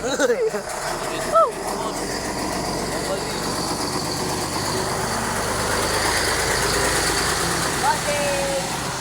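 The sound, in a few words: big truck engine idling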